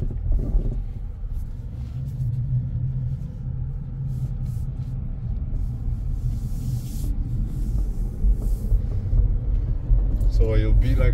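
Inside a Hyundai car on a test track, a steady low road rumble and engine drone continue throughout, with faint creaks and bumps as the car rolls over the course.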